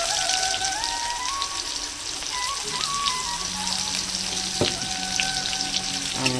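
Chopped onions frying in oil for a fish curry, a continuous bright sizzle close up with faint tonal background sounds and an occasional utensil tap.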